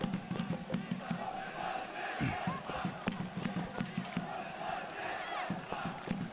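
Spectators at a rugby match between two sides, one of them Uzbekistan, at a Ministry of Defence military complex, a steady mid-distance crowd murmur with scattered shouts and thuds of play, under a commentator talking.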